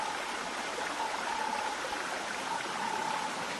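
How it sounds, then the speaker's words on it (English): Steady rushing and babbling of a permanent stream flowing through a farm, close by and continuous, with no voices. "we reach the permanent stream that flows through the farm"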